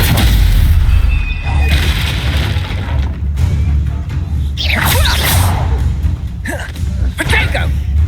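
A Stupefy spell is cast in Hogwarts Legacy, sounding as sharp whooshing swishes and booming magical bursts layered over steady game ambience, with a voice calling out.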